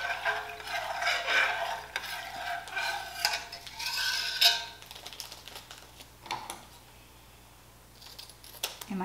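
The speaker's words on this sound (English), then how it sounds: "I just want to make sure I stir that in really good so they're all throughout the milk." A spoon scrapes and clinks against a pot while yogurt culture is stirred into cooled milk, busy scraping for several seconds and then fading to a few light taps, with a steady low hum underneath.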